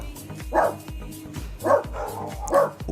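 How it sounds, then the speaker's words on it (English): Dog barks three times at roughly one-second intervals, somewhat distant, with a steady low background hum. "I got a Doge barking in the background here"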